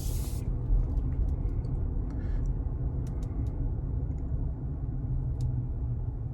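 A 2023 Kia Sportage X-Pro Prestige AWD with a large muffler cruises along with a quiet cabin: steady low road rumble and faint tire hiss throughout, with a few brief soft ticks and no talking.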